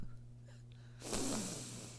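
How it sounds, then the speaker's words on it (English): A person sniffs a Sharpie marker: one quick, close, breathy inhalation about midway, standing out over a quiet low hum. "I'm going to sniff my Sharpie."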